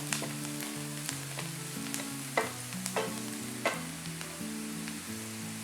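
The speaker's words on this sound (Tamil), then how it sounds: "ஆனியன் பாருங்கள் நல்லா ப்ரௌன் ஆகிட்டுருக்கு." Onions brown in a frying pan for a Tamil cauliflower pepper fry, giving a steady sizzle with a few sharp stirring taps, under background music.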